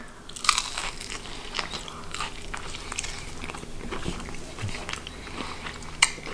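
Crunchy bites into fried haddock from a Dutch takeaway, several close, crisp crunches and chewing sounds spread across the moment, fairly quiet and with no talking.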